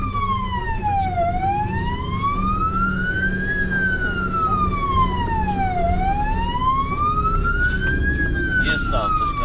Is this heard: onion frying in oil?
no